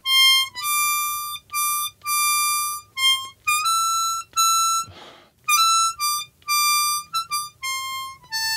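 Harmonica plays the final line of a song with added ornamental notes, a series of clear sustained tones in short phrases with brief breath gaps, one short breathy rush partway through, solo and close.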